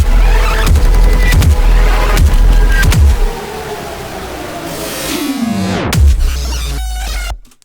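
Crushed, distorted glitch beat: harsh, noisy stuttering hits and dense crackle that thin out, followed by a descending tape-stop style pitch drop and a final burst of noise before cutting off abruptly.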